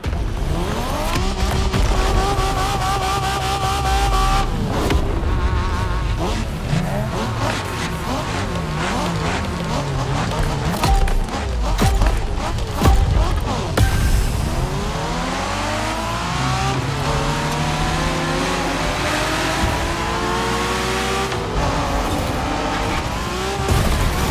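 Car engines revving, gear changes and tire squeal in the racing game The Crew Motorfest during Japanese street racing, loud and continuous, with shifting engine pitch throughout and game music layered underneath.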